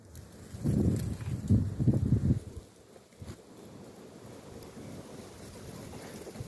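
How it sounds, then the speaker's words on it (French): Gusty wind buffets the microphone in heavy low rumbling bursts, then eases into a steadier, quieter outdoor blow. "Il y a encore du vent, la vache."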